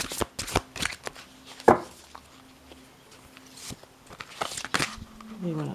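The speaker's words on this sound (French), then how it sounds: "Je fais un petit mélange pour voir un petit peu quelle carte va sortir." Tarot cards are shuffled by hand in quick, crisp bursts of riffling and slapping. The bursts are close and irregular, with pauses between them.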